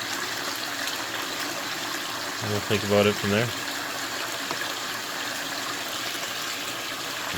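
Water runs steadily through a gold panning sluice in a basement, a constant hissing gush heard throughout, with a short burst of low humming rising in the middle while a person talks briefly over it.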